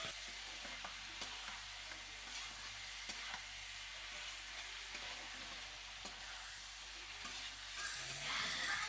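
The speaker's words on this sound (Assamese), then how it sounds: "ভালকৈ লৰাই মেলি অলপ ভাজি ল'ম মাংসখিনি" Broiler chicken meat seasoned with turmeric and salt fries over a wood fire, a continuous close sizzle with soft stirring scrapes, no voices, ending in a louder crackle.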